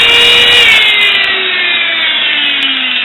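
A loud, steady whine from a spinning buffing wheel on a mandrel as polishing compound is pressed against it while a woodcarving knife edge is being maintained, with a slight drop in pitch partway through.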